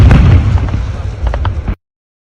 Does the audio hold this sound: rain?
no